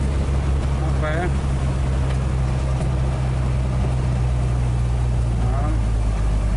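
A 1961 Dodge Lancer on its first drive in 30 years runs with a steady, loud low engine drone throughout, close up.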